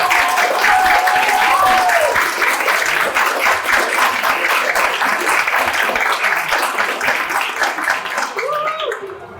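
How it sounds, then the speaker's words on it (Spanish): An audience at a book fair talk applauds loudly and steadily for the writer Mariana Enríquez, dense clapping lasting several seconds before fading as a voice returns near the end. "Le pido primero un aplauso"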